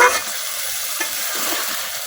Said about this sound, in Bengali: মাংসটা কিন্তু এখন কষানো হয় নাই, আর একটু কষানো হইব।